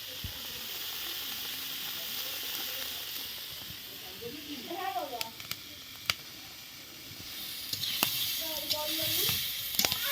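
Green peas sizzle in a hot pan with spices during home cooking, a steady soft frying hiss throughout with a few faint clinks and a voice speaking briefly in the background.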